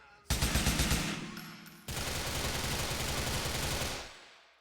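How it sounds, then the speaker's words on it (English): Enemies blind firing automatic guns in the video game Grand Theft Auto IV, two loud, continuous bursts of rapid shots, the second longer, close and dominant. "People keep blind firing from over there."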